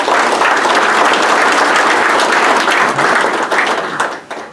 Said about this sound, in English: I'd ask you to give a huge round of applause for the people that are supporting us over the years here in the town of Killarney